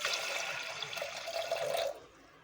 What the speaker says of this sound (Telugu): ఇందులో కొద్దిగా వాటర్ పోసుకోవాలి.